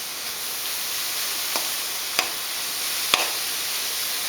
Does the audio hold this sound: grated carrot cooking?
yes